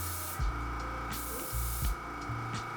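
Paint spray gun blowing air: a steady, loud broadband hiss runs throughout, with a few brief bumps in intensity and low thumps, no voices.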